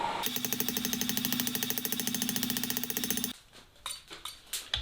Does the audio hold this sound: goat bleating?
no